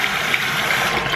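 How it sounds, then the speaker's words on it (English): Water runs steadily from a sink faucet in an apartment whose hot tap leaks from a piping problem, a continuous close splashing rush with no talking. "if you turn the hot water on by itself, it starts to leak"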